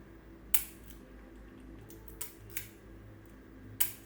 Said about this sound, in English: And also the shutter release, very quiet.